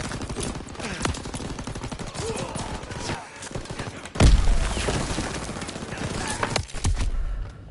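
Call of Duty WWII battle gunfire: rapid rifle and machine-gun bursts crackle amid chaotic combat noise, with a heavy blast near the middle and shouted voices under the shooting.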